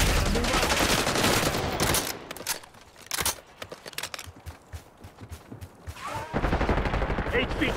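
Dense automatic gunfire in the video game Call of Duty Black Ops 6 rattles loudly in rapid overlapping bursts. A quieter patch with scattered single shots follows before heavy firing resumes, with game radio chatter in the mix.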